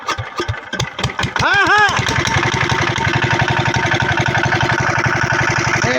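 A 6-horsepower Peter engine cranks with a few uneven pulls, catches and settles into a steady, loud, close-up chugging run, with brief talk from people nearby.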